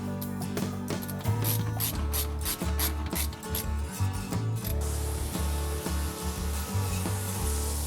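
A hose clamp is tightened over a glove finger on a kitchen sink pipe, heard as close, quiet repeated ratcheting clicks and metallic rubbing in irregular bursts, with a hissing spray-like rush toward the end.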